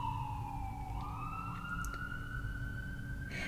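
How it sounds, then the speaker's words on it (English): An ambulance siren, heard as a steady wailing tone that slowly falls then rises again, distant to moderate in level over a low background rumble. "That ambulance, I'll take it as confirmation."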